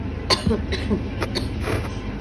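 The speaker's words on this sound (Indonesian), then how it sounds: "lagi batuk" A few short coughs come in quick succession, close and fairly loud, with faint throat noise between them.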